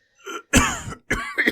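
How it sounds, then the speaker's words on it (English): Three quick rough coughs or throat-clearing bursts, close and fairly loud, separated by short silences, the last two heavier than the first, with no talking. "From off-panel, there's a cough."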